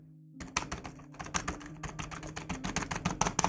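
Typing on a Glorious mechanical keyboard held close to the microphone, a fast, uneven stream of loud, sharp key clacks with faint tonal hum underneath.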